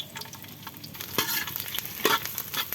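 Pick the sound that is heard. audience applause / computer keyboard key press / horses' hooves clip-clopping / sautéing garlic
sautéing garlic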